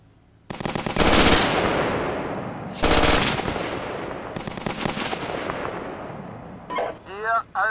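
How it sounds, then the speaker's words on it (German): Gunfire in the tank simulation game Steel Beasts Pro comes in three loud bursts, each a sharp blast trailing into a long rumbling decay, with radio-style voices crackling in near the end. "Hier, Charlie 3, wir stehen unter Beschuss!"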